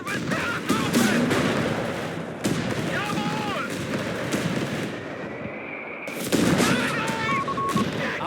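Company of Heroes 3 battle at Tobruk in North Africa: repeated gunfire bursts and artillery booms crowd the whole stretch, loud and continuous, with in-game unit voices calling out over the din.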